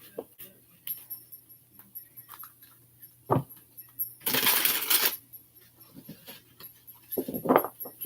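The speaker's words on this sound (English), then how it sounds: "I feel like the bells are sensitive." Bells jingle and clink in short bursts, one longer shimmering rattle in the middle, with quiet movement sounds between.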